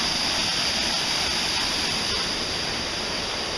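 A rocky river flows near a waterfall where it meets another river, giving a steady, loud, unbroken rushing hiss that stays even throughout with no other sounds.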